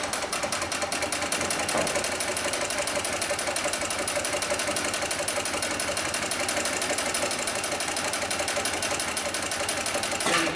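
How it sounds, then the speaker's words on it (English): Industrial sewing machine stitching steadily through four layers of heavy-duty polyester webbing, a dense continuous rapid mechanical chatter held at an even loudness for the whole stretch, close up with no voices. "we'll go ahead and sew through 4 layers of this heavy-duty webbing"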